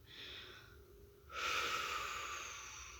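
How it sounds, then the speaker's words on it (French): A slow, deep breath during a calm guided relaxation: a soft inhale, then a louder, fuller airy exhale close to the microphone, alone without talk. "Prenons une profonde respiration."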